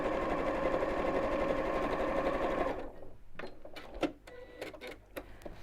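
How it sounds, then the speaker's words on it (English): A sewing machine runs steadily for a few seconds, top stitching across a bowling bag, then stops, followed by light clicks and handling of fabric. "I'm going to top stitch just across the top"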